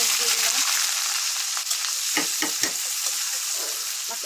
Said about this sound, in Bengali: এই যে শুকনো মরিচের পর পেঁয়াজ দিয়ে দিলাম